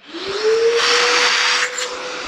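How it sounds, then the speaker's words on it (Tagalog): A Kujima vacuum machine runs loud and steady with a strong airy roar and a rising motor whine that settles into a constant drone, heard close with no talk. "Kujima Vacuum Machine. Ito po yung vacuum po ninyo ha. Try natin."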